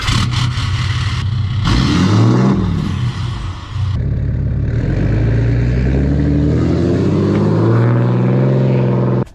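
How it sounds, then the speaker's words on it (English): A 2019 Cummins 2500 diesel pickup running its factory exhaust with a delete pipe, loud and close, revving up with a deep rumble that rises and falls before settling into a steady throaty idle-to-cruise drone. "what you guys just heard was the factory exhaust besides just a delete pipe into it"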